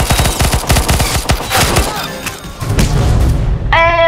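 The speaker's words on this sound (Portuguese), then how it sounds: "o cara já atirando muito" Rapid bursts of gunfire in the Roblox game Arsenal, a quick string of loud sharp shots followed by heavier booming blasts and a final ringing tone, with game effects dense throughout.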